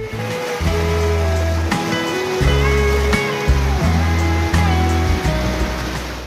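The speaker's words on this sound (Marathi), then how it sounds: "हे जे मोटर सारखं दिसतं आपल्याला ते फ्लॅश मिक्सर आहे" A flash mixer churns water dosed with liquid alum at a water filtration plant, giving a loud, steady rushing roar of turbulent water under a low motor hum, with no talk.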